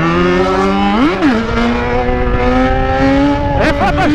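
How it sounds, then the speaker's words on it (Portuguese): A motorcycle engine revs hard as the rider pulls a wheelie, a loud, steady buzzing drone that swoops up and back down in pitch, then climbs in quick repeated bursts near the end. "aqui a moto sai empinando sozinha"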